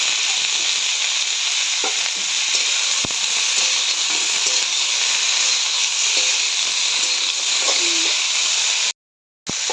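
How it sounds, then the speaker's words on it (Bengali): Cauliflower pieces fry in a pan with a loud, continuous close sizzle and faint scattered pops, broken by a short silent gap near the end, with no talking. "ফুলকপিটা ভাজা হয়ে গেছে"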